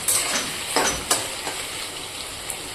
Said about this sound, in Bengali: এই যে দেখো, আলু ভাজা হচ্ছে, আলু ভেজে নিচ্ছে